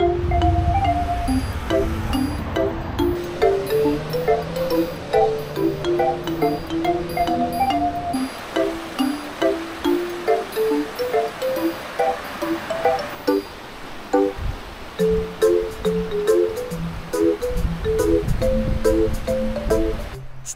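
River water rushes steadily in Shiding, Taiwan, a constant broad wash heard under a melodic music track throughout.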